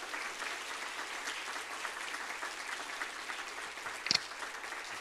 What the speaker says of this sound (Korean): 나오실 때 우리 뜨거운 박수로 환영하겠습니다